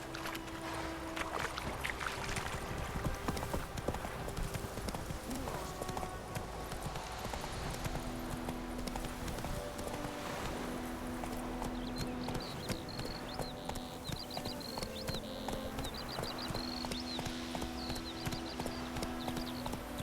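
Roach the horse gallops in Witcher 3, with steady rhythmic clip-clop hooves throughout, close and fairly loud, over faint ambient game sounds and no talking.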